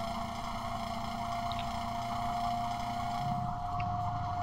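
A heavy truck engine drones steadily in Euro Truck Simulator 2 while hauling a special transport load, a low tonal hum with a constant whine above it, then a brief rumbling change near the end.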